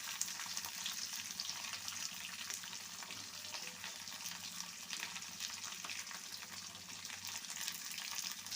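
Mustard seeds, urad dal, fenugreek, curry leaves and onion frying in oil, giving off a steady, faint, continuous sizzle with no voices over it.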